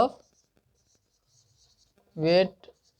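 Pen or chalk scratching out the molecular weight of calcium carbonate during a chemistry lesson, one short close stroke burst standing alone after a brief voice.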